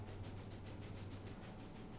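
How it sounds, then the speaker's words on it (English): A train engine in the Disney Infinity video game runs steadily, a low droning rumble with a faint rhythmic pulsing on top, continuous and moderately loud with no talking. "You get to race against other cars with a train."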